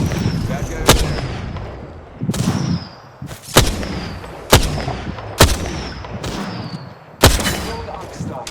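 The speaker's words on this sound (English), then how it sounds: "I'm taking fire." Single loud gunshots crack at irregular intervals in the Apex Legends shooter game, each followed by a ringing tail, over a steady bed of game ambience and music.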